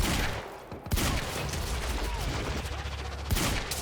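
Rapid gunfire in the video game Quantum Break, dense volleys of shots that drop out briefly and then resume, with a voice speaking over the shooting.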